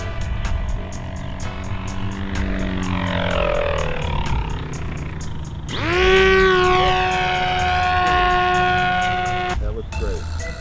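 Sweepwings 60-inch Behemoth RC flying wing coming in to land, its propeller whine rising and falling in pitch as it passes, with people talking.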